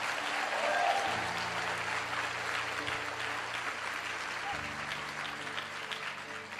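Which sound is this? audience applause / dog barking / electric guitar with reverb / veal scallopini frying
audience applause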